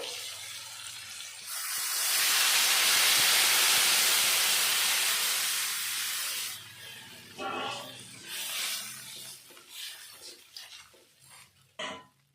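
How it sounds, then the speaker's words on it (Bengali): Water poured into a pan of red-fried potatoes for a fish curry, a loud rushing pour that gives way to irregular sizzling and stirring sounds, near and without talking. "আলুটা লাল লাল করে ভেজে নিয়েছি এখন দিয়ে দেবো পরিমাণ মতো জল"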